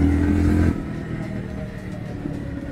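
A Jawa 350 motorcycle engine hums while riding, loud and steady for a moment before dropping to a softer, rumbling running note with road and wind noise.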